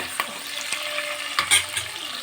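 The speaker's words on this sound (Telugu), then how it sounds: "ఆనియన్ పచ్చిమిర్చి వేసి బాగా మగ్గనివ్వాలి బాగా ఇలా బ్రౌన్ కలర్ వచ్చేసరికి ఫ్రై" Onions and green chilies frying in a pan, a soft sizzle under clinking and scraping stirs, with a few sharp utensil knocks against the pan.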